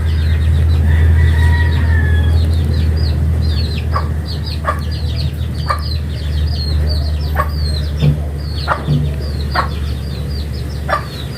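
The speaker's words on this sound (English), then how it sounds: "The sound of chickens in the background appreciating watching the duck being painted" Farmyard chickens cluck repeatedly in the background, short clucks spaced a second or so apart over a steady low hum, fairly distant.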